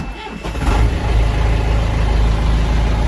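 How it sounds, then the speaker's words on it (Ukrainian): The engine of an MTZ-82 tractor cranks briefly and catches, then settles into a loud, steady diesel idle close by. "І заводю трактор. Заводю трактор, щоб був заведений."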